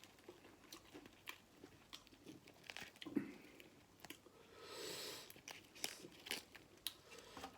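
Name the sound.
chewing and eating pork larb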